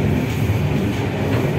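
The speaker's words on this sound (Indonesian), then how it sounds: "kereta api Kahuripan akan berhenti di stasiun Leles" An economy-class Kahuripan passenger train rumbles along with a steady, loud, low roar from the carriage interior. Nothing else is heard above the continuous running noise.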